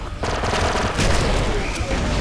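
Rifle gunfire in Star Wars Republic Commando bursts in dense, continuous automatic volleys, loud and close, mixed with game effects and faint voices.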